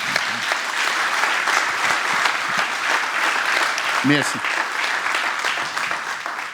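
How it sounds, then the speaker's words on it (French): Concert audience applauding the parents at a Mozart concert, a full, continuous patter of many hands clapping close by, with a brief spoken word of thanks partway through. "je vous invite à applaudir tous les parents qui encouragent leurs enfants à jouer de la musique."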